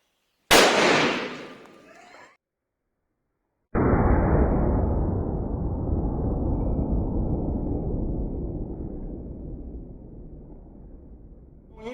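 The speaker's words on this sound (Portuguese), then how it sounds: "Primeiro tiro, calibre 36, balote único Knox Lug." A 36-gauge shotgun fires a single Knox Lug slug outdoors, one sharp loud blast that fades quickly, followed after a pause by a long loud metallic ringing rumble that slowly dies away.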